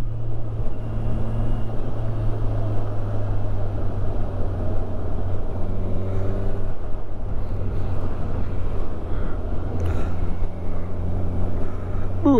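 A Kawasaki Ninja 1000 SX motorcycle hums steadily at speed, its low engine drone buried under loud, constant wind rush across the rider's microphone, with brief pitch shifts as it changes speed.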